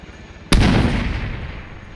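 A frag grenade detonates in the ARMA 3 military shooter during platoon training on Bozcaada: one sudden, loud, close boom whose deep rumble trails off over more than a second.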